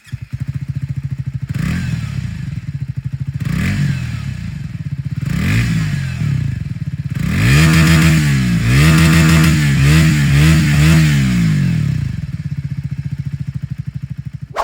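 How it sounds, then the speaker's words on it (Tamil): A Triumph Speed 400 motorcycle revs repeatedly: a few short throttle blips followed by sustained higher revs that climb and fall, the exhaust note loud and close with no one speaking. "எக்ஸாஸ்ட் நோட் எப்படின்னு சொல்லி கேட்டுருங்க."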